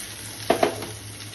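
Cooked toor dal is poured into hot oil tempering and sizzles with two quick, sharp bursts over a low background hum, then settles into a quieter hiss.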